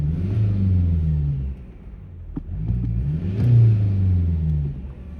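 A Mercedes AMG Line car's engine revs in neutral or park, climbing and falling through two throttle blips with a deep, close rumble and a quieter idle between them.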